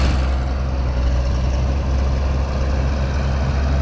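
A Cat D5B bulldozer diesel engine idles close by, a dense, steady low rumble and clatter with no breaks, pushing wet laterite soil.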